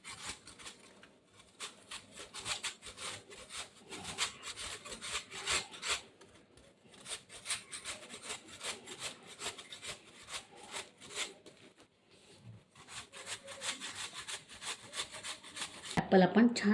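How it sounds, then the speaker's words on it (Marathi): Peeled apple is grated on the large side of a hand grater, a soft rhythmic rasping of repeated strokes with brief pauses, close and fairly quiet. "आपण ॲपल घेतलं होतं सोलून, तर मी किसणीने किसत आहे"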